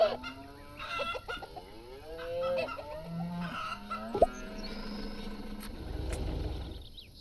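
Sick chickens clucking in the farming video game Farm Manager 2018, a steady stream of close, repeated clucks and squawks with no talking over them.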